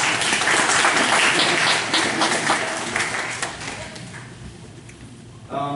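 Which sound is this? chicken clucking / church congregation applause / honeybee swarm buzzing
church congregation applause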